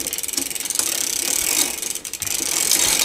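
Ratcheting clicks from a pedal wrench tightening a pedal on a 1987 Mongoose ATB vintage mountain bike as the crank is pedaled backwards, a close, steady run of rapid mechanical ticks with brief pauses.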